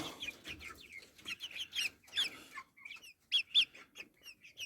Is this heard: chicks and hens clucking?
yes